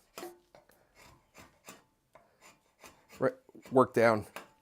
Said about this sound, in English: a draw knife makes it real quick to work down